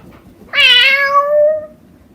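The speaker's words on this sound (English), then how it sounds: "meow is a little more like meow" A single drawn-out cat meow, loud and close, rising then trailing off over about a second, with quiet background otherwise.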